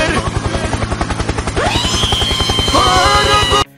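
A loud, close helicopter thuds with fast, regular rotor beats under a rising turbine whine that swells midway, then cuts off abruptly near the end.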